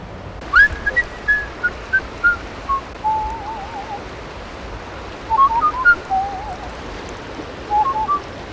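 Someone whistles short, rising and wavering tunes in scattered bursts while trout fishing on a stream, with a steady rush of water underneath and no talk.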